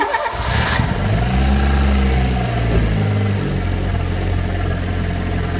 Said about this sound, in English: So yeah, the engine runs.